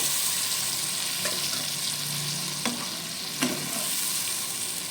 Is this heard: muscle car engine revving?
no